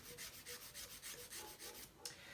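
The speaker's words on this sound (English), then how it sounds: "I'm going to come up from the top and I'm going to file it from here" An acrylic nail is filed with a nail file in steady back-and-forth rasping strokes, about a dozen in quick rhythm, close and faint, with no talking.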